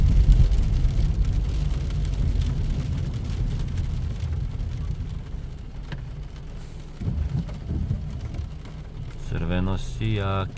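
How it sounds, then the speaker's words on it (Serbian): Rain falling on a wet street at night with low traffic rumble and a car passing by, steady and moderately loud, with a voice speaking near the end. "Sija, kiša pada"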